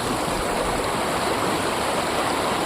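Water of a stream in Jammu flowing steadily, a loud, even rushing wash that carries on without a break and with no voices over it.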